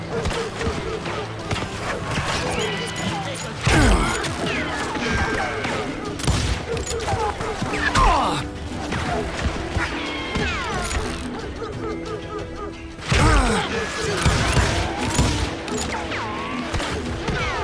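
Gunfire from a Wild West shootout in Call of Juarez: Gunslinger rattles on steadily as a dense fusillade of shots and booms, with loud bursts near the start, middle and end, under music and game noise.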